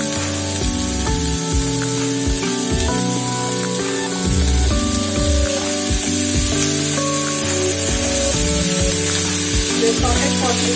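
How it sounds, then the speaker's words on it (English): Fresh paneer sizzles loudly in a hot pan with other ingredients, a dense continuous frying hiss broken by repeated stirring scrapes throughout. "We are going to add fresh paneer to it."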